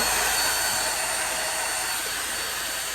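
A hair dryer runs on high heat, a loud, steady, close-up whooshing roar with no change over its few seconds.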